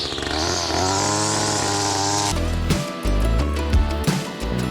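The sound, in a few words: string trimmer weed whacker cutting weeds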